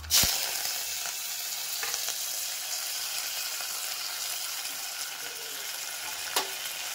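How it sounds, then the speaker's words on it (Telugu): Mustard seeds and cumin splutter in hot oil in a bowl, a steady crackling sizzle with a sharp pop at the start and another near the end, close and alone. "ఆవాలు జీలకర్ర వేసుకున్నాము. చిట్పట్లాడిన తర్వాత పచ్చిమిర్చి, కొత్తిమీర, కరివేపాకు."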